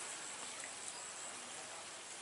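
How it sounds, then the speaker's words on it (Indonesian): Light drizzle falling in a rural village beside rice fields, a soft, even hiss of fine rain that stays constant and faint with no voices over it. "Gerimis"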